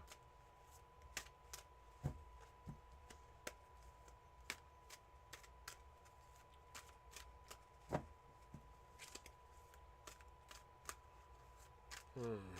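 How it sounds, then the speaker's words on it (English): A deck of tarot-style cards being shuffled during a reading, giving repeated soft riffles and snaps over a faint steady hum, with scattered sharper clicks and no talk. "I am just starting to shuffle the deck for you."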